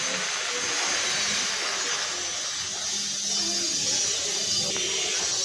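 Water poured into a pan of frying papaya sets off a loud, steady steaming sizzle and hiss that holds without break throughout, close by and with no talking.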